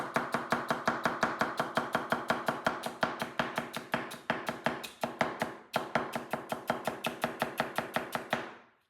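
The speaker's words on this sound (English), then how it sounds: "Cutting onions, speed cutting onions, celery." Rapid, even knife strikes as onions are speed-cut on a board with a Misono gyuto chef's knife. About five crisp chops per second run steadily for roughly eight seconds with one brief pause, and no one speaks.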